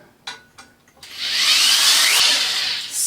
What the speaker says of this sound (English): Nice fresh sharp drill bits. Using a real low speed